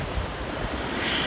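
Ocean surf washing onto a sunny beach at Merimbula, a steady broadband roar of breaking waves with some wind buffeting the microphone, close and fairly loud throughout, no talking.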